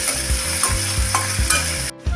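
Cut onion sautés in hot oil in a kadai, a steady close sizzle broken by rhythmic stirring scrapes of a spoon against the pan, with no voices.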